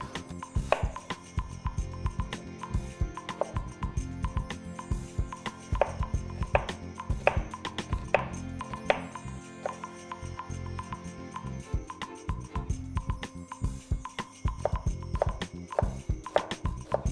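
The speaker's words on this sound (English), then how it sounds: "So let's cut up some onion because we're gonna need that for both." Knife chopping onion on a cutting board for pico de gallo and guacamole, a long run of crisp, irregular taps at close range with no talking.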